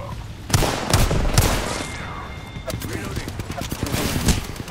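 Rapid R-99 submachine gun bursts in Apex Legends on Xbox, loud close firing in several sharp clusters mixed with game effects and talk.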